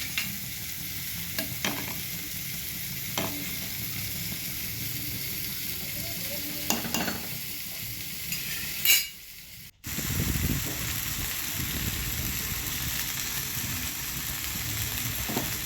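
Spices with tomato being fried in a pan for a banana flower curry, a continuous close sizzle with occasional stirring scrapes, briefly dropping out before the frying resumes loudly.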